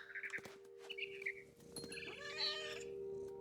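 A cat in the video game What Remains of Edith Finch chases a mama bird, with several short, close meows and chirpy cries over a steady tonal hum and light game effects.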